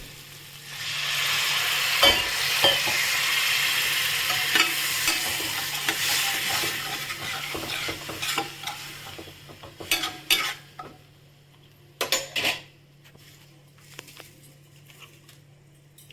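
Water poured into frying masala for a taro dish sets off a loud hiss that gradually dies away, followed by scattered scrapes and clanks of a spoon stirring in the pan.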